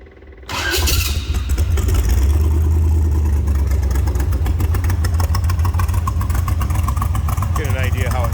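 A 1923 Ford Model T T-Bucket hot rod with a tri-carb setup cranks briefly and then fires into a loud, steady, rumbling idle, heard close by for several seconds with a voice speaking over the engine.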